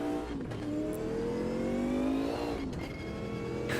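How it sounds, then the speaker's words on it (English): Twin-turbo V8 Mercedes Sauber Group C race car in Automobilista 2 on the Nordschleife, engine revving and climbing through gears with rising whine and brief dips between shifts, loud and close with no talk. "let's go warm up some tyres in our twin-turbo V8 Mercedes Sauber"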